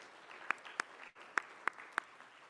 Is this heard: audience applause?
yes